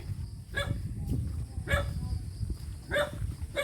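A dog barks several times in short bursts amid steady background noise, the barks spaced out and moderately close.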